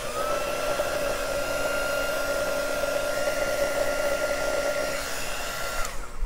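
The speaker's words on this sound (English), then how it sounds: "If it's too wet, you can use a hair dryer" A hair dryer runs steadily at close range, drying a wet ink brush painting of flowers and birds, its even whooshing hum holding for several seconds before cutting off near the end.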